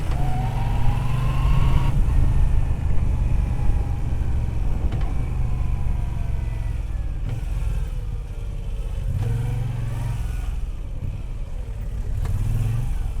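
A 2019 Moto Guzzi V9 Bobber cruiser motorcycle riding through traffic, its engine droning steadily with rising and falling tones as the rider shifts and pulls away, mixed with passing road noise.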